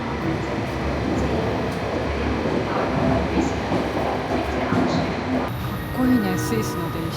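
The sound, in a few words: Swiss passenger train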